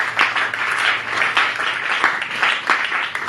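Church congregation applauding in a sustained burst of clapping that swells in rhythmic waves, loud and close, filling the space with continuous hand claps.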